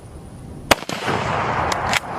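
A Mosin carbine rifle fires one sharp, concussive shot that echoes and rumbles outdoors, followed by a second fainter crack.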